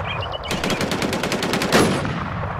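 Gunfire in the online shooter game Infestation: a rapid automatic burst of evenly spaced shots, preceded by a few fainter pops and ending in a louder blast, close and loud, with no talking.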